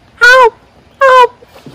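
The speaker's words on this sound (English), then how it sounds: "I don't know if you can hear those peacocks calling in the background." Two loud, harmonic wailing peacock calls about a second apart, each lasting a quarter second, with a faint third sound trailing off afterward.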